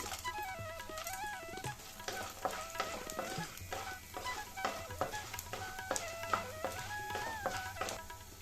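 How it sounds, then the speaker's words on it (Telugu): Peanuts, coriander seeds, chana dal and urad dal dry-roasting in a pan, rattling and scraping in quick irregular bursts as they are stirred, close and fairly quiet, with no talk. "వేరుశనగలు వేస్తున్నాయి కదా ఇందులోనే ధనియాలు వేసుకుందాము నెక్స్ట్ శనగపప్పు మినపప్పు కూడా వేసుకుందాం ఇవన్నీ కొంచెం దోరగా వేగాలండి"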